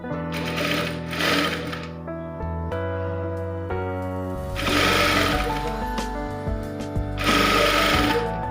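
A sewing machine stitches cloth piping onto fabric in close, loud, rapid mechanical bursts that start and stop, with brief pauses between runs of stitching.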